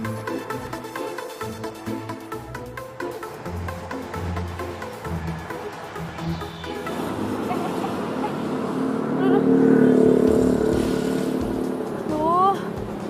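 A motorcycle with a flat tyre runs at night, its engine note rising and dipping unevenly and faltering. The uneven engine sound mixes with rougher noise and a brief higher whine near the end.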